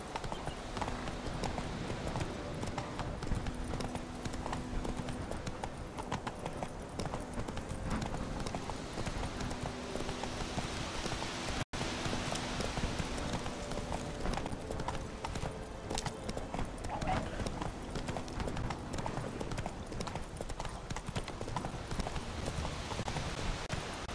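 Roach, Geralt's horse in The Witcher 3, gallops hard through the game world, hooves pounding in a steady rapid rhythm over layered music and ambience, with a brief dropout midway through.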